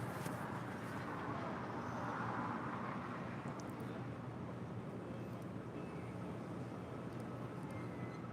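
An airliner on approach to land on runway 25 left at LAX, a distant, steady broadband roar and rumble holding evenly throughout with no talk.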